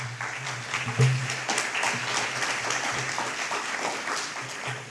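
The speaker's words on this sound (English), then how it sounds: "let's give a huge round of applause to all of our speakers and all of our presenters" Audience applause for the speakers and presenters at a scam-awareness event, a steady wash of clapping over a room hum that lasts the whole stretch, with voices mixed in.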